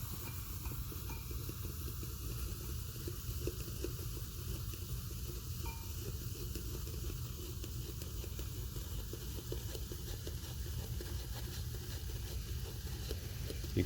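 Powder stirred into acid in a lab beaker during an endothermic reaction, producing a steady low hiss with faint, rhythmic stirring scrapes underneath, quiet and continuous without speech.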